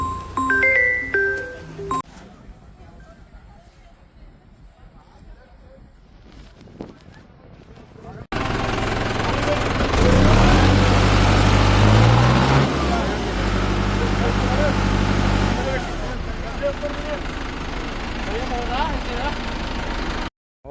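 A tractor loaded with soil for repairing the Sutlej river embankment idles in the rain, a quieter throb at first that turns loud and broad partway through, with people talking nearby.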